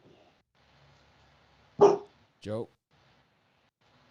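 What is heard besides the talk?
dog barking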